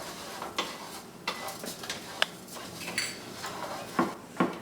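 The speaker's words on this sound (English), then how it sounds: "You stir it very well until the oil coats the rice completely." A spoon stirs rice in hot oil in a pot for risotto, giving soft scraping with occasional metallic clinks against the pot over a faint sizzle.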